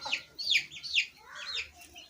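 A Java rooster clucks in a quick run of sharp, bright calls, several short bursts close by with brief gaps, and no talk over them.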